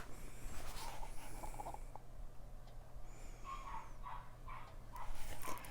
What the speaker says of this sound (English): I'm sorry if you hear the puppy barking downstairs.